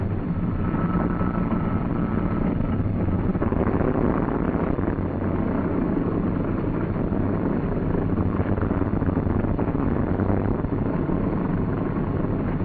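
Piston engines of a U.S. Army troop carrier airplane turning over and catching, a steady loud droning roar with low rumble and broadband wash filling the whole stretch, no voices.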